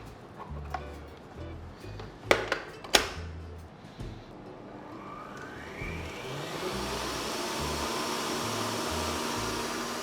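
Electric hand mixer whisking egg whites on high speed for vanilla cupcakes, a steady whirring drone that builds and holds loud through the second half after a few clicks and knocks at the start.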